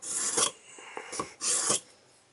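A large knife is drawn through a Sharp N Easy 2-step knife sharpener, giving three short, scraping rasps with brief pauses between strokes.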